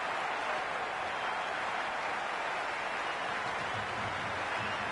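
Dense, steady crowd roar fills a cricket stadium at a Pakistan vs India ODI in Rawalpindi, a broad continuous wash of cheering and noise held at constant level for the full stretch, no distinct voices standing out.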